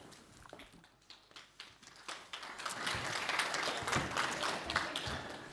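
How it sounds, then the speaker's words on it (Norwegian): Audience applause at a Norwegian national conference opens with a few scattered claps and then swells into a full, steady round of clapping from a large room, with no voices. "Og en liten applaus."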